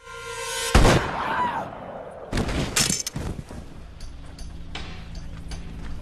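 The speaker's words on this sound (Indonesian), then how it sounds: "secara mengejutkan Samidi malah menembak si Kobau tanpa alasan yang jelas" A single sharp gunshot from an action film cracks loudly near the start, followed by a ringing decay, with further clattering impacts and background film sound afterward.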